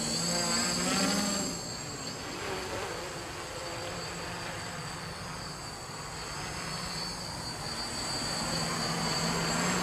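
A kk2 quadcopter fitted with cheap Park Fly propellers flying nearby, its motors giving a steady high-pitched buzzing whine that swells slightly at times, with no talk.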